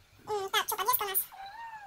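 A domestic cat meows close by, a few drawn-out, wavering cries in quick succession, then a softer, lower trailing meow.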